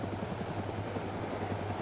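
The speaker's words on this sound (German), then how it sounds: "Bleib ich im Heli." A helicopter's steady rotor thrum and engine whine drone continuously at close range in a survival game, even and unbroken throughout.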